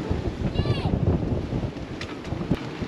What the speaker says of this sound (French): On a des petites rafales.